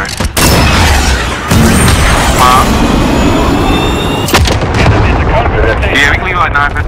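Missile launch in the Call of Duty: Modern Warfare video game, a loud sustained roar of booms and blasts filling the whole clip, with game chatter mixed underneath.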